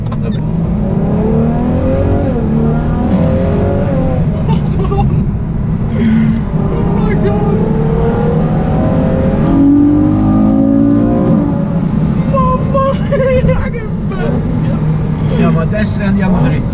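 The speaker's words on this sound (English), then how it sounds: "Enjoy this naturally aspirated V12. It's not every day you get to drive an F12." A Ferrari F12 with a naturally aspirated V12 engine pulling away, its rising, revving engine note swelling beneath close voices chatting, steady and fairly loud throughout.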